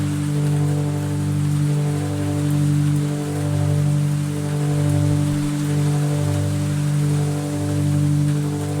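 Steady rain falling on a surface, a dense continuous patter layered inside an ambient psychedelic music track with sustained low synth pad tones and gently swelling loudness throughout.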